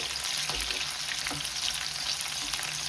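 Onions fry in a pan for a quail egg and potato fry, giving a continuous, fairly quiet close sizzle with a few light stirring clicks and no voices.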